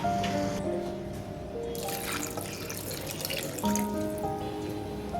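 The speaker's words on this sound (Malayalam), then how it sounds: "ഇനി 1/2 ഗ്ലാസ് വെള്ളം ഒഴിച്ച് നമുക്ക്" Water is poured into a cooking pot for Kerala-style avial, a wet splashing and trickling pour running steadily with some clinks and a louder burst midway, close and fairly clear.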